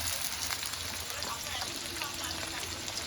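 Green chillies frying in a pan of onions for chicken kosha, a steady close sizzle and crackle with a rain-like hiss running continuously without a break.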